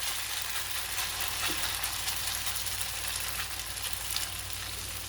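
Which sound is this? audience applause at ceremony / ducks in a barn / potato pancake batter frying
potato pancake batter frying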